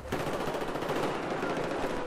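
Rapid, continuous machine gun fire in a competitive Domination match of a shooter video game, dense and steady for about two seconds with no pauses, loud and close.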